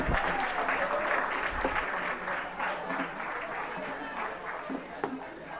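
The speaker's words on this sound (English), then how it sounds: "A huge round of applause." A conference hall audience at an inauguration breaks into a sustained round of applause, dense clapping that gradually thins as it continues.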